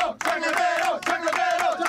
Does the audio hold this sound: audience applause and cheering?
yes